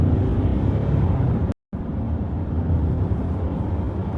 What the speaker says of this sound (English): Now I'm going to accelerate a bit. Let's step on the gas like this